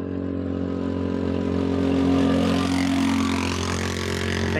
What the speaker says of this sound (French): le quad qui arrive, surtout qu'il arrive vite